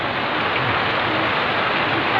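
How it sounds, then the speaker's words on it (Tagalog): Dense, steady rainfall hisses without a break, a loud broadband wash of water with no voices over it. "Lakas ng ulan."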